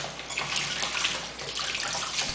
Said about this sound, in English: rinse off the entire stem.